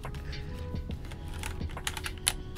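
Typing on a Royal Kludge RK96 Forest Blue Limited Edition keyboard with ABS double-shot keycaps, a steady run of close, crisp keystrokes with occasional louder clacks.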